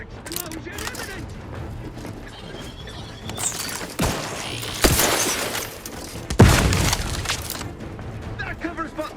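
An explosion in the video game The Outer Worlds 2, with loud bursts and shattering debris over game noise and voice lines.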